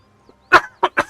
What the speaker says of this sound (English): Got a little cough over here.